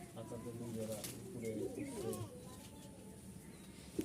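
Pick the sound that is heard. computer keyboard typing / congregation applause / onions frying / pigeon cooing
pigeon cooing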